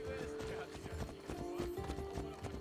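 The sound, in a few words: horse hooves and whinny in Assassin's Creed Odyssey video game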